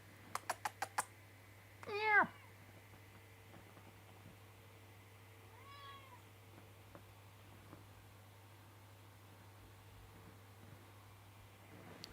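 A house cat meows indoors beside a computer: a few sharp keyboard clicks, then one clear, fairly close rising meow, followed several seconds later by a softer, shorter second meow over a steady low electrical hum, with no talking.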